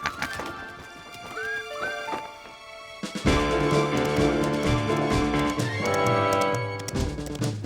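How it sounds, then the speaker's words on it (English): Young stallion gives a high, wavering neigh, followed by loud, close galloping hooves drumming in a fast, steady rhythm with music playing along. "What a magnificent young stallion, isn't he?"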